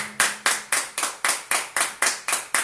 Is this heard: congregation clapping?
yes